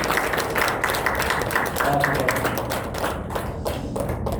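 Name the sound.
audience applause at a book talk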